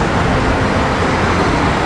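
Dense, continuous traffic rumble of cars crossing a city viaduct in São Paulo, a steady wash of road noise with no distinct individual passes and no voices.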